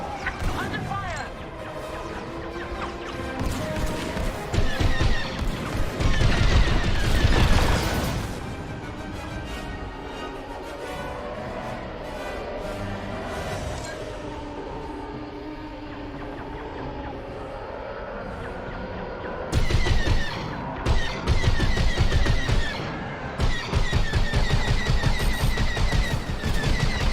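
Rapid laser cannon fire and impacts from a space battle in Star Wars Squadrons, in dense bursts with crashes and engine noise, while voices talk over the combat.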